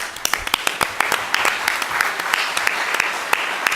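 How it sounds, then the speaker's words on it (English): A small breakfast-meeting crowd at an HR networking event gives a round of applause, with sharp, distinct individual claps standing out over a softer bed of clapping for nearly four seconds. "Let's give him an applause."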